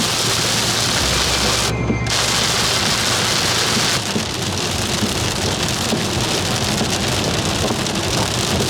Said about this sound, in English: our windscreen wipers literally could not disperse the rain fast enough